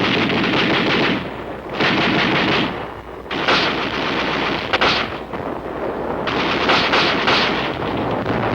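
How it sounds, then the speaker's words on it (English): Korean War combat gunfire from an automatic rifle: loud, sustained bursts of rapid shots broken by short pauses, close and harsh, with no voices. "The auto rifle."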